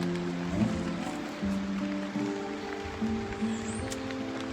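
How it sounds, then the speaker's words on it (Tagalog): Steady rain falls outdoors at a farm plot where bitter gourd is grown, a continuous close hiss with a low background hum and no speech. "And ulan pala ngayon guys dito. Kaya tayo nakasombrero kasi maulan siya."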